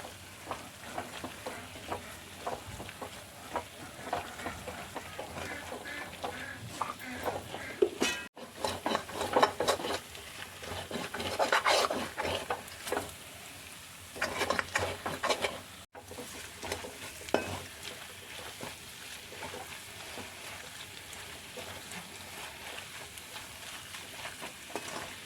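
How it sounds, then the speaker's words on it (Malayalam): Garam masala frying in a pan of mutton and potato curry, stirred steadily with a spoon, giving a continuous close sizzle with scraping strokes that swell and ease over about twenty-five seconds, no voices present. "മസാല ഇട്ട് നമുക്കിതൊന്ന് ഇളക്കി കൊടുക്കാം"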